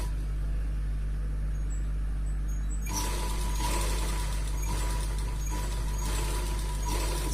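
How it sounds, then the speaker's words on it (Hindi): A sewing machine stitches seams along both sides of a pair of men's underwear, starting up partway through with a steady, dense mechanical whir over a constant low motor hum. "हमको दोनों साइडों में ऐसे सिलाई लगा देनी होगी।"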